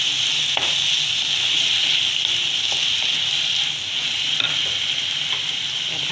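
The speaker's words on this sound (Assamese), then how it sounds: "নিমখ দি পেলাই মই অকণমান দেৰি ভাজিব লাগিব।" Taro and fish fry with salt in a pan, a steady bright sizzle with occasional crackles and spits close up, continuous and unbroken with no talking.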